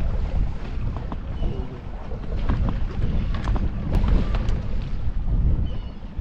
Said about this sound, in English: If you can hear anything, literally just the water churning.